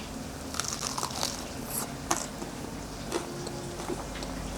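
Someone biting into a crispy Vietnamese shrimp cake (bánh tôm), with a few scattered close crunches amid faint background noise and no talking.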